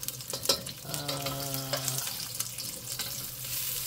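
Ginger sizzling and frying in a fast-heating wok for Chinese braised pork belly, a steady close crackle with stirring clinks and a brief tonal ring midway.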